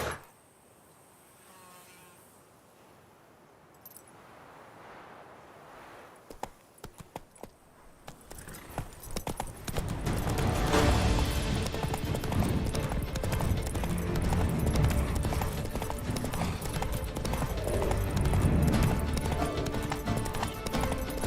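Roach, Geralt's horse in The Witcher 3, breaks from quiet into a loud continuous gallop of rapid hoofbeats that runs on steadily after a few scattered steps, with buzzing ambience underneath.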